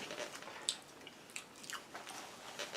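Close, wet chewing and biting of fast food, with soft crunches and squishy mouth sounds in a quiet room and no talk.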